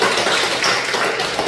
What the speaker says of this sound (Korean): 우리 최 집사님도 용기 내고 또 잘 감당하시라고 우리 격려의 박수 한번 하십시다.